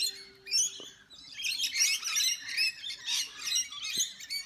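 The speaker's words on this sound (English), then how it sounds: "The lorikeets go mad over here." Lorikeets squawk and chirp at a backyard bird feeder, a busy overlapping burst of shrill, rasping calls close by, with a couple of brief lower tones under the chatter.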